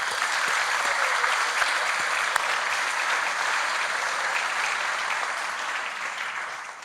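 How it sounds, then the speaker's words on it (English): Graduation audience at a police academy ceremony applauding the mothers, a sustained, even wash of many hands clapping that tapers off slightly near the end, with no voices. "So, round of applause for all the moms."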